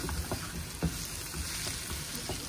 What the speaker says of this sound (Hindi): अब हम इसके अंदर ये लहसुन और मिर्चें डाल के इसको अच्छी तरह से फ्राई कर लेंगे।